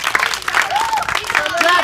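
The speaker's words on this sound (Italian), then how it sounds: "Facciamoci un applauso di incoraggiamento." A group of schoolchildren at an outdoor environmental day claps in encouragement, a brief burst of scattered applause mixed with high voices chattering over it.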